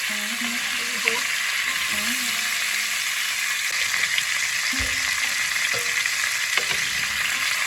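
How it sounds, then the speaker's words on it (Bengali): Pumpkin and potato pieces fry in a pan, sending up a close, constant sizzle and crackle with scattered stirring knocks and scrapes throughout. "কুমড়ো আলু একটু ভাজা ভাজা হলে"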